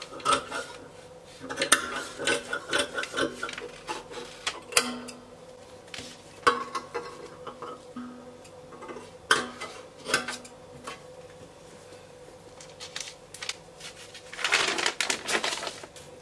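Crepe fabric being cut out with scissors on a table, with bursts of close, crunchy snipping and scraping clicks coming in irregular runs, loud and alone without talk.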